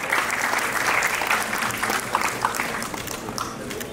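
An audience at a school annual showcase applauds to welcome a speaker onto the stage, a dense, steady clapping from a sizeable crowd that thins slightly toward the end.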